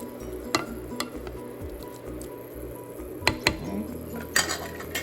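Beans are stirred in a cooking pot, producing quiet, intermittent scrapes, soft squishes and a few sharp clinks of the utensil against the pot, close by and without speech.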